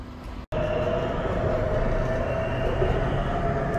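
A Bangkok subway train rolls along with a steady loud rumble and rail roar heard from inside the carriage after a brief cut, no talk.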